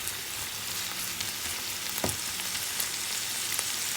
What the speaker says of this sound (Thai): ผัดให้เข้ากันค่ะ ผัดค่ะ ผัดเข้าไปน้องให้เข้ากัน